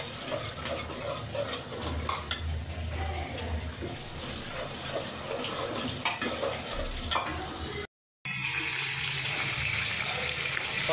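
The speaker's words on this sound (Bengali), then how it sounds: "প্রথমে আলুটা ভালো মতো ধুয়ে নিতেছে" Potatoes washed under running tap water in a home kitchen: a continuous splashing, rushing stream with light clatter, fairly faint, briefly cutting out before resuming.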